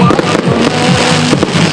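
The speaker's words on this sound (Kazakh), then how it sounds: "Петропавл аспанын жарқ жұрқ еткен отшашулар жапты" Fireworks burst over the city square in Petropavl during a New Year celebration, a rapid series of loud sharp cracks and pops with crackling tails, close and dense across the whole stretch.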